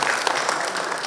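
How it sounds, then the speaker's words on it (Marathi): Audience applause at a Diwali morning cultural program in Saswad, a dense, steady wash of many hands clapping loudly throughout, with no voices over it. "जोरदार टाळ्या वाजवा"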